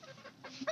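Backyard chickens clucking in short soft bursts close by, ending in a slightly louder cluck, with no talk.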